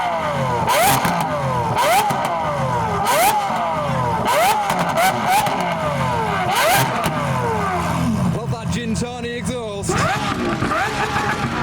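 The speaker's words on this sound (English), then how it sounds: "The Aventadors are revving in the background. They sound so good." Lamborghini Aventador V12 engines revving at a car show, repeated sharp throttle blips rising and falling in pitch, loud and close, with crowd murmur underneath.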